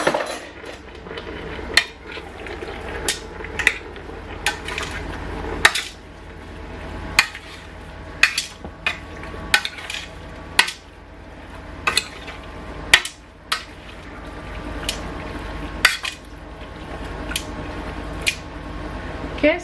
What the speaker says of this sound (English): Okay, so I've given it a quick stir.